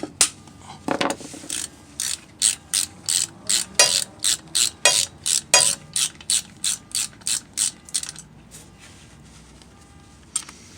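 A ratchet works an 11 mm brake caliper bolt on a Chevy 3500 dually's rear caliper: about twenty loud, crisp clicking bursts in steady rhythm, close up, with no talk.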